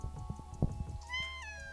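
A house cat gives a single drawn-out meow that rises and then falls, heard close and clear over light background noise and soft clicks.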